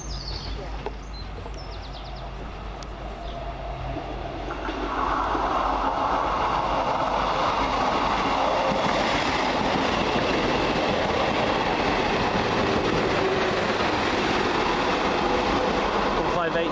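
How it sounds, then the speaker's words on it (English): East Midlands Liverpool to Norwich passenger train running through a station, a loud, steady rumble and rush that swells after a few seconds and holds, with faint rail clatter and a bird in the background. "Now coming through for the East Midlands, the Liverpool to Norwich service"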